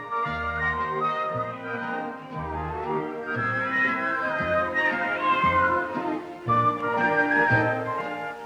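A cat meows repeatedly at close range, giving several drawn-out, wavering calls one after another.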